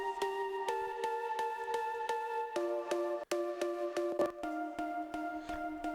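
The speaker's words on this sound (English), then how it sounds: "Also have this little synth playing subtly in the background," A plucked synth patch called Sand and Sky plays quick, bright, repeating plucked notes in a steady rhythm, shifting pitch now and then, quiet and without voices.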